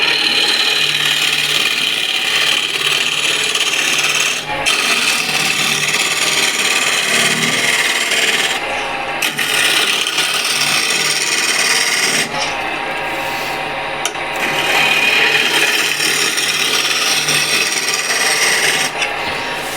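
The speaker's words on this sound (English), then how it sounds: "I'll use my refiner to refine this surface. And to see how it scrapes this apple." A wood refiner scrapes across a turned apple-wood piece spinning on a lathe, a steady close rasping hiss that runs continuously with brief dips as the cutter lifts, over the lathe's constant hum.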